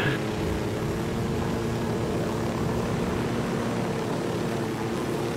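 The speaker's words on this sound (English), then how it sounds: "I'm gonna fall off this fucking chopper" Helicopter in Ghost Recon Wildlands flying with a constant, loud rotor and engine roar that fills the whole stretch without a break.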